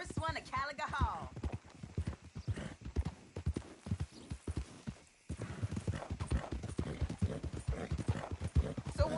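Horse hooves clip-clop steadily in Red Dead Redemption 2, with a brief whinny near the start, while voices talk over the hoofbeats throughout.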